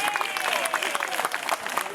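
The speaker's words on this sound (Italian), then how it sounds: "Che applausone!" Audience applause at a live comedy show in Novi Ligure, a dense patter of clapping from a crowd, steady and fairly loud across the whole stretch, with a voice over it.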